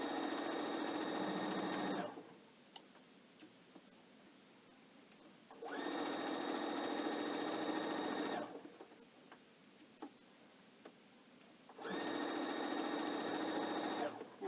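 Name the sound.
sewing machine stitching a pillowcase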